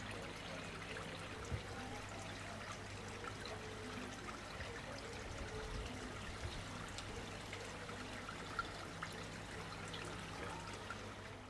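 A koi pond's bottom drain air system runs steadily, with a soft continuous bubbling and trickle of water and a low hum underneath, faint and even throughout.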